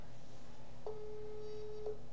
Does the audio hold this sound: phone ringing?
yes